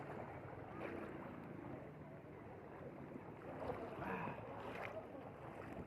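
A small boat moving through floodwater in Cainta, with a steady wash and splashing under a constant rushing hum and some wind noise on the microphone.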